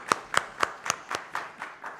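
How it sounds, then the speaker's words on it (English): About eight hand claps at a steady rhythm, fading and slowing toward the end, given as applause for presenters at an automotive manufacturing conference. "Let's have a big round of applause for them."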